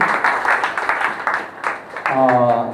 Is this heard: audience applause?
yes